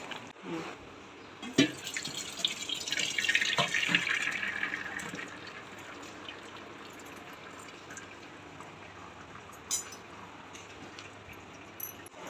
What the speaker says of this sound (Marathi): मी भाजीचं पाणी गाळून घेतलं